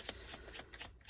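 Tarot cards being shuffled and drawn, a quick run of crisp riffling flutters repeating close by, with no talk over them.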